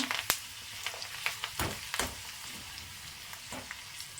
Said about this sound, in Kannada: ಹಾಗೆ ಬ್ಯಾಡಗೆ ಮೆಣಸಿನ್ಕಾಯಿ ಕೂಡ ಫ್ರೈ ಮಾಡ್ಕೊಂಬಿಡೋಣ